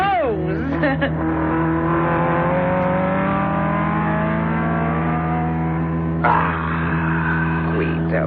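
A race car roaring past as a radio drama sound effect, a loud, sustained engine drone with shifting pitch as it passes and a second surge of revving near the end, close and dominant.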